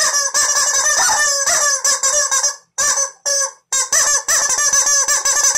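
Several screaming yellow rubber chicken toys squawk loudly in rapid bursts, honking shrieks piling over one another with a couple of short gaps, no talking.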